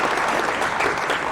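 Dense applause from a conference audience, steady and loud for a brief moment.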